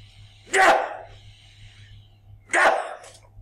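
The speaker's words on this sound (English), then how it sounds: "Excuse me, I got to sneeze." Two sharp sneezes about two seconds apart, loud and close, over a low steady hum.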